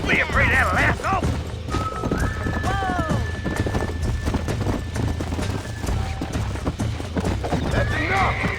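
In the video game Red Dead Redemption, horses whinny and neigh loudly amid fast clip-clopping hooves during horse wrangling with a lasso, with people talking over the commotion.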